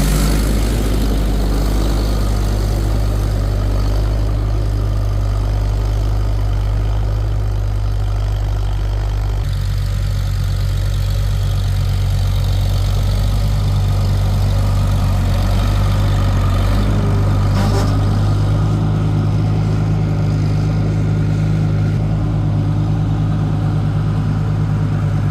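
A Farmall 400 tractor pulling a 4x14 Fast-Hitch plow drones steadily and loudly up close, a constant low engine rumble throughout with no talk.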